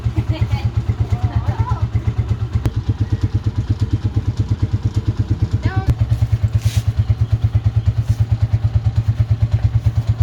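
A motorcycle engine in a rural province setting runs in a steady, rapid, chugging idle, close and loud, with voices talking now and then over it.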